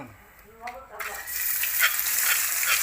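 A brief vocal sound, then a sudden loud sizzle as garlic, chili and lemongrass hit a hot pan and keep frying steadily, for stir-fried wild boar.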